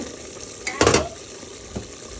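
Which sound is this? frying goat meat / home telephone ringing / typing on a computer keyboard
frying goat meat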